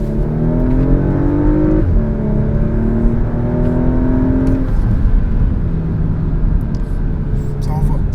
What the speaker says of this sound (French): On passe en sport. Donc déjà le régime est là, on a une petite accélération.